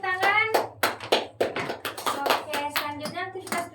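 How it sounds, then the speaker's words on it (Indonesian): A classroom of students claps for a presenting group, with individual claps heard as sharp separate bursts beneath a voice that carries over most of it. "terima kasih kelompok 1 ya, tepuk tangan."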